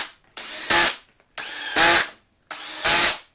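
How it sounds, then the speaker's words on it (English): Power driver running screws into a Sebo Felix Premium vacuum cleaner during a refurb: three separate bursts, each a whirring spin-up that rises to a loud, high-pitched whine before cutting off. "Just put the screws in."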